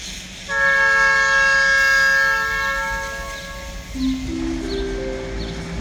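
Train 418, hauling six cars, stops at Mueang Phon station in Thailand: a long, loud horn chord sounds nearby, followed by lower, fainter tones and the rumble of the train.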